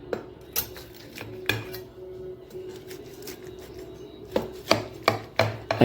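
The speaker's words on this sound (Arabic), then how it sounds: "هنا هنبدأ نقطع سلايز منها كده عشان نوري حضراتكم." A knife and serving utensil cut slices of baked béchamel pasta in a dish, making a scatter of sharp clinks and scrapes against the pan, some clustered and some spaced out, over a quiet background.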